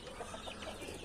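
A hen, mother of three chicks and laying again, clucks softly and repeatedly close by in a farmyard, short low calls running through a steady background.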